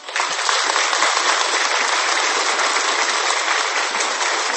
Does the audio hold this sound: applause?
yes